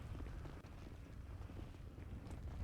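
Wind blowing overhead in a video game, a soft, low, continuous rushing drone with slight gusting swells, faint and steady throughout with no voices.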